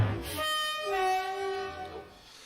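A train horn sounds in a long sustained blast with a steady harmonic tone, loud and close, fading slightly at the end.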